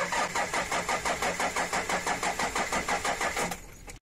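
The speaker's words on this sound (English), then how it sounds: "It doesn't have enough cranking amps to start the engine properly" A car engine cranks over and over on a weak battery with a fast, even chugging rhythm, close and loud, then slows and fades near the end without catching.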